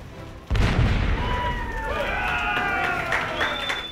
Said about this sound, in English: they let me fire off the cannon.